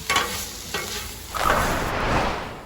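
Meat and sauerkraut being stirred and reheated over medium-high heat on a Blackstone griddle, a steady close sizzle broken by spatula scrapes, with a louder burst of frying partway through and no talking.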